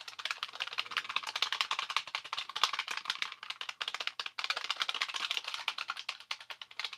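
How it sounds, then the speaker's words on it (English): Fast typing on a Gearhead computer keyboard, a rapid, continuous patter of clicky keystrokes with brief pauses, close and crisp, with no talk. "But I do like buttons, and this is one of my favorite keyboards"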